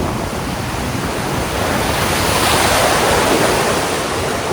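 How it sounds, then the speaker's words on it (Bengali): Sea waves at Dublagadi sea beach, a steady broadband wash of surf that swells slightly midway, close and loud with some wind, no voices. "দেখো সামনে ঢেউটা।"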